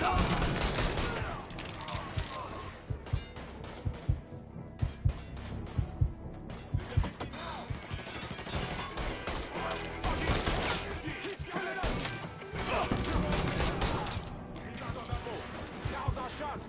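Gunfire fills a shootout in the video game Mafia 3, with sustained volleys and sharp individual shots cracking over a busy mix while voices shout through the fight.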